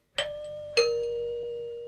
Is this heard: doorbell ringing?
yes